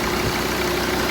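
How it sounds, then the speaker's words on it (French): A Jeep Grand Cherokee WJ engine idles close by with a steady, loud low rumble and even hum throughout the brief moment, no voices heard. "Je vais couper le moteur."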